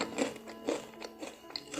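Crunchy Indonesian peanut cracker (peyek kacang) bitten and chewed up close, a series of sharp crisp crunches at a steady rhythm with no talking.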